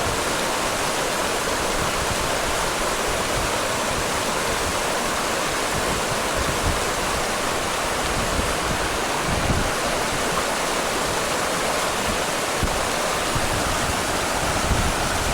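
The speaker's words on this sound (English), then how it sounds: "Coming down to another stream crossing." A mountain stream at a backpacking trail crossing rushes steadily and loudly up close, a constant broadband wash of flowing water with no break.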